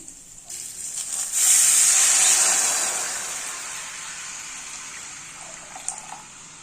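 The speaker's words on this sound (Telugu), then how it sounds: "తాలింపు బాగా ఫ్రై అయ్యాక ఇప్పుడు చింతపండు రసం వేసుకోవాలి." Tamarind juice poured into a hot tempering in a pan, a rushing liquid pour and hiss that swells loud for a couple of seconds, then settles into a softer steady sizzle with a few small clinks, no voices.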